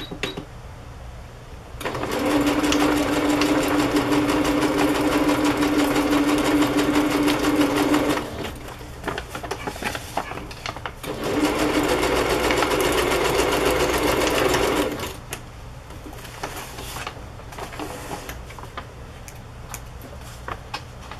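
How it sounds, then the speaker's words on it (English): A sewing machine stitches a fabric pocket onto a small fabric journal in two sustained runs of rapid mechanical whirring, each lasting several seconds, with a short quiet pause between and near-silence afterward. "And I just sew along the top and the side, so this is loose"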